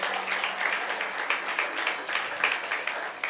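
Children clapping together at a church revival meeting, a dense, steady patter of many hands lasting throughout with no pause and no one talking.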